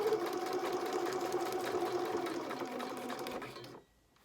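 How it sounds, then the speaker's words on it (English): A sewing machine stitches fabric in a steady rapid whirring run with a mechanical chatter, fairly quiet and close, then stops abruptly near the end, leaving near silence. "you don't want to watch me sew this"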